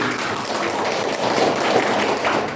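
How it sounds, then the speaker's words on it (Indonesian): A church congregation at a Sunday service claps together, a loud, continuous mass of hand claps with a little uneven swelling, filling the room without pause. "Haleluya, tepuk tangan dulu."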